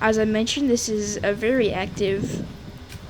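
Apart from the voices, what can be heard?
No distinct noise like a dog, phone or traffic.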